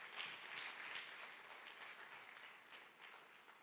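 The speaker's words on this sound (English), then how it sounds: "Can we give a resounding applause to our partners?" A room of attendees at Uganda Innovation Week claps warmly for event partners, a steady, fairly distant wash of applause that holds evenly and tapers slightly toward the end.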